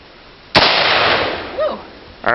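A single AR-15 rifle shot cracks out loudly outdoors, then fades into a short echoing tail. A brief voice follows near the end.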